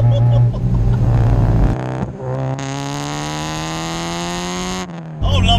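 A naturally aspirated 235 bhp B16B engine in an EK4 Honda Civic revs hard, its harmonic tone climbing steadily and holding a loud, sustained high-rpm wail before dropping off, with brief muffled speech at the start.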